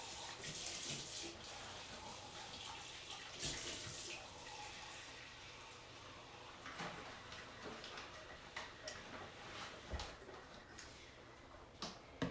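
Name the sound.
water running from tap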